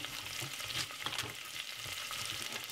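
Celery and red pepper frying in a pan for a vegetable stir-fry, a steady crackling sizzle with spatter bursts throughout, moderately close and with no talk.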